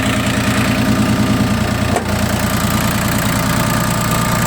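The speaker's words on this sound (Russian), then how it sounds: "Данный трактор агрегатирован двигателем трехцилиндровым дизельным на 18 лошадиных сил." A Yanmar YM1802 single-drive tractor with a three-cylinder 18 hp diesel engine idles close by in a steady, loud, even chug that runs without a break.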